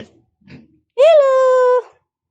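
A pig lets out one loud, clear squealing grunt up close after a couple of faint snorts.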